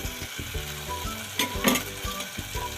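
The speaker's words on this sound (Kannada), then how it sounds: "ಇದು ಸಹ 2 ನಿಮಿಷ ಫ್ರೈ ಆಗಬೇಕು." Egg masala base of coriander powder and chili powder fries in hot oil in a pan for a hotel-style egg curry, giving a steady close sizzle with a few louder crackling bursts and no talking.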